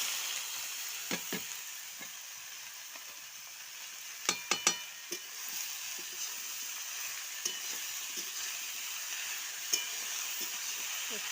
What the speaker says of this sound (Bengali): আদাটা একটু ভাজা হোক কপিটা একটু ভাজা ভাজা হোক